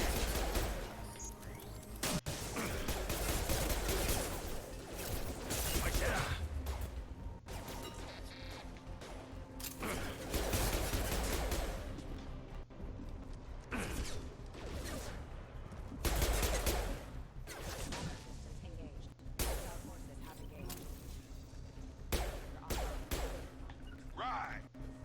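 Gunfire from combat in the video game Mass Effect 2, with dense, sustained bursts of shots layered over a busy game soundtrack and effects, mixed with voices talking throughout.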